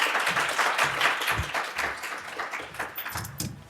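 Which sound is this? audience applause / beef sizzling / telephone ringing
audience applause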